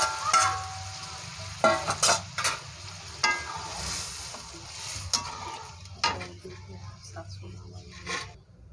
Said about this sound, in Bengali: ডালটা ঢেলে দিতে হবে।